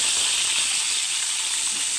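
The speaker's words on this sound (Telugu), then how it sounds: "స్టవ్ మీద బాండీ పెట్టుకొని 2 గరిటెల ఆయిల్ వేసాను. ఈ ఉప్పు చేప ముక్కలు వేయించుకున్నాను." Salted fish pieces fry in a couple of ladles of oil in a pan on the stove, a close, steady, hissing sizzle that holds evenly throughout without talk.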